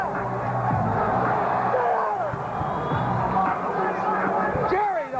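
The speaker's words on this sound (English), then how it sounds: "The crowd rallies behind the champ." Boxing arena crowd cheering and shouting for the champion, a loud, dense roar of voices with whoops rising over steady hubbub throughout.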